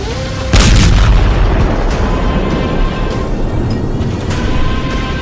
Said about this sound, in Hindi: तो क्या ईरान के करज पुल पर फटी ये मिसाइल वही सीक्रेट हथियार है?